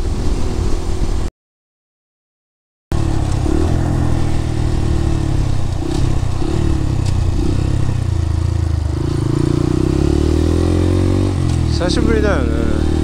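A Honda Grom motorcycle engine drones steadily under way on a road in Japan, loud and close, with wind rush and a brief dropout early on. A rider talks over the engine.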